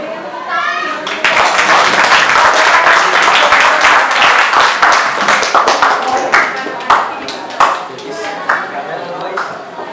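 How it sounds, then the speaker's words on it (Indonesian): A school audience in a classroom applauds steadily after a debate on evolution theories, dense loud clapping that tapers into scattered claps, with children's voices mixed in. "Kepada penonton dimohon memberikan tepuk tangan."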